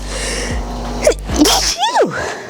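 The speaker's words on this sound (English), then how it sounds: "Uh-oh, I feel another sneeze coming on." A single loud sneeze bursts out close by, preceded by a sharp intake of breath.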